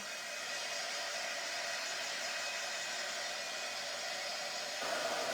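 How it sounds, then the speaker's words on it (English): A heat gun blows over printed fabric to dry it, giving a steady, close, hissing airflow roar that holds constant and swells slightly louder near the end, with no voices. "A heat gun may also be used. So we're going to use this just to dry it."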